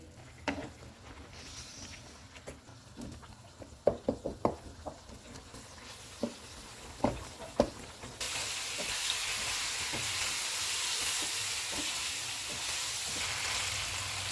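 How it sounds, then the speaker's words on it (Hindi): Chicken fries in a karahi over a medium-to-high flame, first with scattered sharp pops and stirring clacks, then a loud steady sizzle that takes over for the last several seconds. "चूल्हे को मीडियम टू हाई कर देते हैं और इसको ऑयल अलग होने तक भूनेंगे।"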